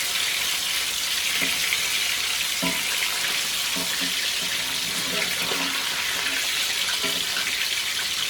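Red snapper fillet frying in a pot of hot oil for escoveitch, a steady loud hiss and crackle running without a break, with a few soft clinks and bumps scattered over it.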